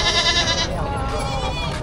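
Goats bleat loudly up close at a livestock market in Padre Garcia, Batangas, a wavering cry that overlaps with people talking.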